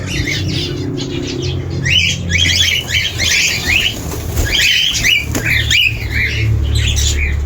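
Indian bulbuls squawk and chirp busily around their nests in a village garden, a dense, loud run of harsh calls over a low background rumble.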